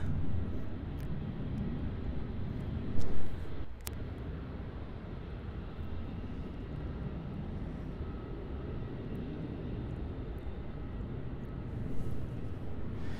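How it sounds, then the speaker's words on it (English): A QantasLink Dash 8 Q300 turboprop airliner on final approach to runway 34 at Melbourne Airport, arriving from Mildura, gives a steady, broad engine roar that holds for the whole stretch, with no talking. "on final approach now for runway 34, we have a Qantas Link Dash 8 Q300"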